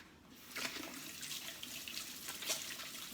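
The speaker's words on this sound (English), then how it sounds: "Let me just quickly wash my hands here" Tap water runs steadily over hands being washed at a sink, a soft close splashing stream with small brief spatters, quiet and without talk.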